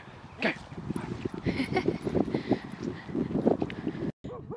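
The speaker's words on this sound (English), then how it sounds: "he's just going from side to side barking at them" A dog barks repeatedly at other dogs outdoors, rapid sharp yips and barks close by, with people talking over it.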